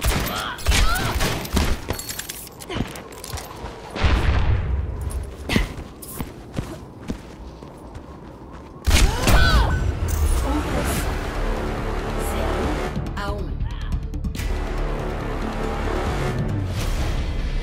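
Bomb explosion in the video game Overwatch, a sudden loud blast amid ongoing gunfire and chaotic match noise, with a voice talking over the action.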